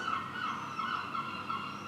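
Birds calling outside a garage during an MR2 build, a fowl-like gobbling call warbling repeatedly in short wavering bursts, fairly faint and without talk.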